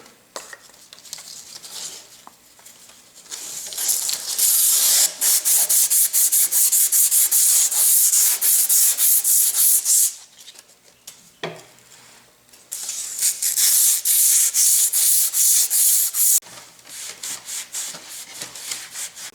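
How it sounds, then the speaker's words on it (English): Emery cloth lubricated with paint thinner scrubs a steel shaft from a Yates American B244 machine, two long bursts of steady, harsh rubbing strokes, close and loud, separated by brief pauses and scattered clicks. "see if I can clean up this shaft a little bit with some emery cloth lubricated with paint thinner"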